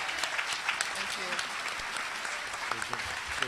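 Audience applause for a distinguished plenary panel at a mental health and spirituality conference, dense steady clapping throughout with a few sharper individual claps and faint voices underneath.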